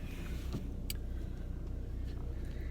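Car with newly fitted brakes driving along, a steady close engine and road rumble with a few faint brief squeaks on top and no talking.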